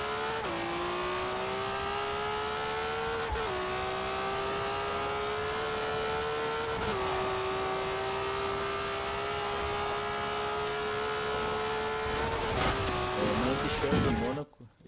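A rear-drive Shelby Monaco car in the Forza Horizon 4 racing game, its engine screaming at high revs and dipping with each gear shift, tires squealing near the end, loud and continuous.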